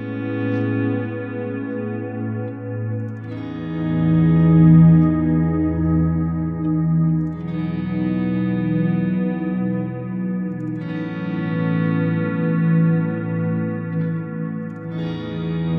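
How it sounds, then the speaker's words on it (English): Ambient electric guitar swells pass through ping pong delay, reverb and a volume pedal that removes the pick attack, giving a wide, pad-like wash of layered chords that fade in and shift every few seconds with no talking. "I'm gonna use a reverb to wash it down, and then I'm gonna use my reverb pedal to ramp up the volume and to remove the attack of the guitar to get a pad-like sound."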